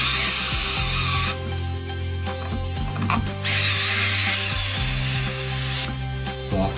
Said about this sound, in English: I'll tighten these screws to tighten the box to the plaster.